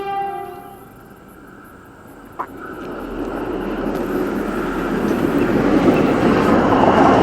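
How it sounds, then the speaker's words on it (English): A train approaches on a line above a tunnel in Central Western New South Wales and grows steadily louder, a broad rumbling roar building over several seconds, with a brief sharp knock partway through. "we see the same train come across that train line above the tunnel"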